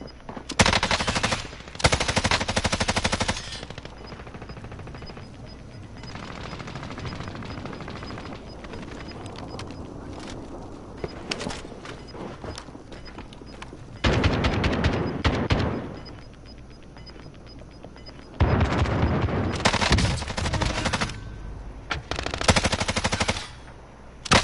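Automatic gunfire in a PS4 shooter game, several long rattling bursts of machine-gun fire with shorter gaps between them, loud and close throughout, no talking.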